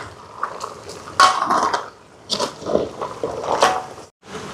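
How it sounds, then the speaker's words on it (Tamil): A spoon stirs curry powder into chicken curry in a pot, with wet squelching scrapes and light metallic clinks against the pot. The strokes come in several uneven bursts, close and fairly loud, then briefly stop. "சேர்த்துட்டு கலந்து விடுவோம்."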